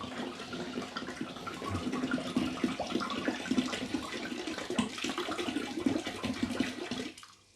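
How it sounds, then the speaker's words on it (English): Homemade mead glugs and splashes steadily as a bottle is emptied by pouring, a continuous watery rush running for several seconds before tapering off at the end, with no talking over it. "When you're emptying out a bottle, you can just pour it out."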